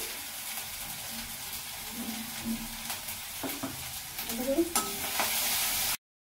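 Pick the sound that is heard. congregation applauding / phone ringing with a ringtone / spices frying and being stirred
spices frying and being stirred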